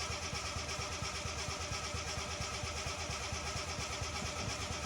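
A 3.0 Ghia Ford Capri barn-find engine cranking without catching, a steady rhythmic churning of the starter that runs continuously at close range with no voices.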